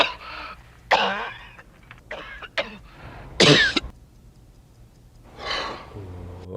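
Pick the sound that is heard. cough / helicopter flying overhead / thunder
cough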